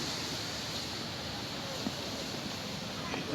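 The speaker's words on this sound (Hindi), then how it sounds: "ये देवीज फॉल में जो पानी गिर रहा है, नीचे जा रहा है" Steady broadband rush of water plunging at Devi's Fall waterfall in Pokhara, a continuous roar that fills the whole clip without pause.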